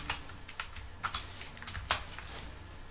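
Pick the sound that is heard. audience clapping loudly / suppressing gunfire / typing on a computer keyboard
typing on a computer keyboard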